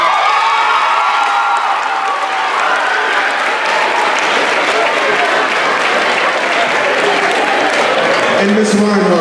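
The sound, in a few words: audience applause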